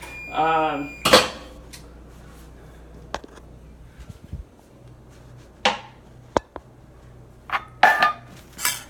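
A pot of cooked macaroni is lifted off a home stove, with scattered metallic clanks and knocks of the pot against the burner grate, brief and fairly close, with a short bit of talk at the start.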